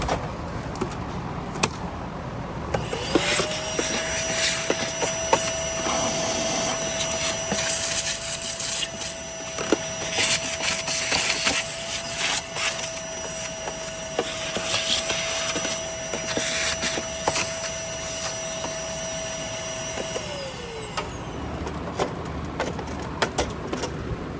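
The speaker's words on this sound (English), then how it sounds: "So we're going to have to vacuum all this out." A Sharp EC 14TXC commercial vacuum cleaner starts up, runs steadily with a whining motor tone for most of the clip while debris rattles and clicks through it, then winds down.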